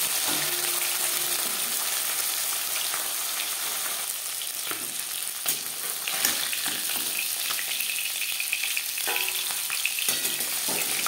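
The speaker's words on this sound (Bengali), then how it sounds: "সামুদ্রিক মাছ আমি একটু কড়া করেই ভাজলাম।" Chela sea fish frying fairly crisp in a pan of hot oil, a steady, dense sizzle running throughout with occasional stirring clicks and pops.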